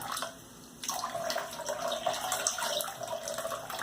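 A tap runs into a sink while water is splashed onto the face before a shave, a close, steady gush broken by irregular splashy scoops of water.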